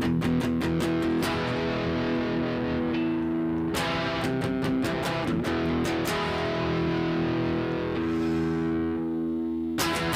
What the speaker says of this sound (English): Put on some overdrive.